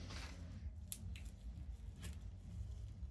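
A few quiet, crisp snips of scissors cutting, spaced irregularly against a low background hum.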